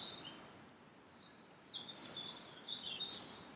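Faint, scattered bird chirps and calls in a quiet outdoor space, growing a little busier partway through, with no talking.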